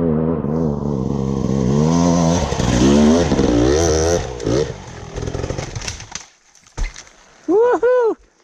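A motorcycle ridden on the Dragon's Lair road climbs through revving gears with clutch work, loud and close, then drops away before two sharp rising-and-falling engine swells near the end.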